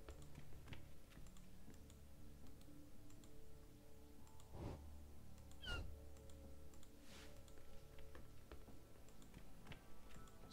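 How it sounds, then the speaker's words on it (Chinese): A small cat gives one faint, brief meow in a video game. It sits under steady quiet clicking that sounds like keyboard typing, against a soft background. "那是一只可怜的猫咪在叫。"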